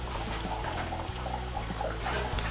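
A steady trickle and splash of water runs onto the diamond wheels of a lapidary machine during turquoise cabochon cutting, a continuous low wash with no speech.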